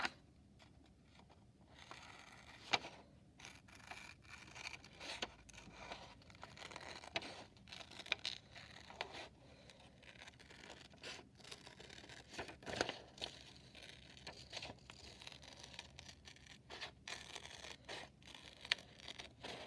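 Paper being cut with scissors for an Ancient Egypt art project, steady snipping and crinkling close up, quiet and continuous with no talk.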